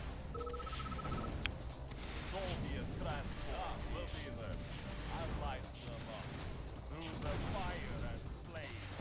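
Rapid gunfire from units attacking a flak cannon in the strategy game Command & Conquer: Mental Omega 3.3.5, on an Epsilon mission, sounds as dense, continuous bursts of shots and impacts layered over game effects throughout.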